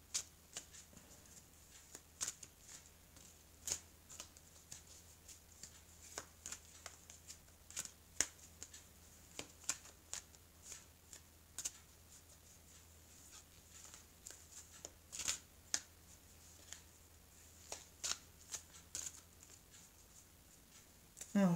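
A deck of oracle cards being handled in a quiet room, with a continuous stream of soft, faint card flicks and taps and a low hum underneath, with no voices.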